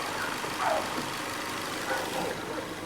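A four-cylinder car engine idles quietly and smoothly with a steady low hum and no misfires, heard up close with no voices.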